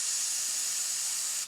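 3M brake cleaner sprayed from an aerosol can: one continuous hissing spray held for about a second and a half, close and fairly loud, then cut off abruptly.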